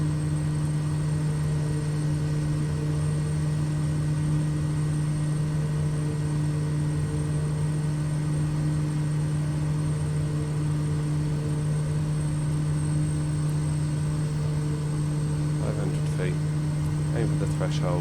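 A SimWorks Studios Kodiak 100 single-engine plane comes in to land in Microsoft Flight Simulator, its engine a steady, close, unbroken drone with a constant hum running through the whole stretch and no voices.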